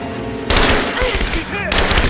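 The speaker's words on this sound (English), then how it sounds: "Give me suppressing fire! Now!" Suppressing gunfire in a firefight in Rise of the Tomb Raider, a dense burst of rapid shots with booming impacts for most of the stretch, mixed with shouting voices.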